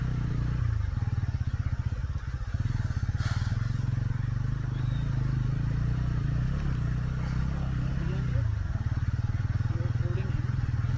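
A motorcycle rides along an unpaved dirt road toward a village in Uttarakhand in the evening, its engine droning steadily and close throughout, with rattling and brief revs as it rolls over the rough surface.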